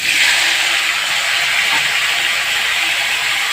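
Ridge gourd pieces hitting hot oil tempered with nigella seeds and a dried red chili, giving a loud, dense, continuous hissing sizzle that holds steady throughout without pause or voices.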